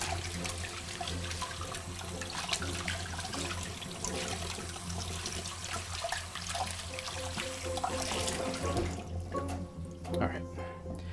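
A cold-water tap runs steadily into a sink while catfish is cleaned, producing a continuous rushing splash that thins out near the end, with a voice talking over it.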